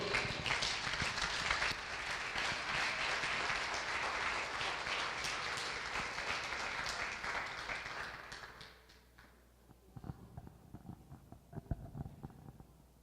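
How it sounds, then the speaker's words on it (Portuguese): A church congregation applauds during a baptism service, dense sustained clapping filling the room for about eight seconds before thinning into scattered, irregular claps. "Vamos aplaudir ao Senhor."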